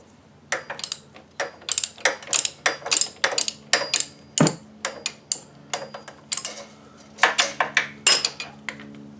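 Dirt bike oil drain plug being unbolted with a wrench, a string of close, sharp metallic clicks and ratcheting taps in quick bursts, with a low steady hum underneath.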